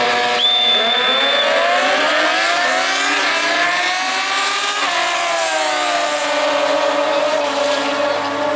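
Stewart Performance-built drag racing motorcycles launch down the strip at World Wide Technology Raceway, a loud, sustained engine roar that climbs steadily in pitch as they accelerate hard.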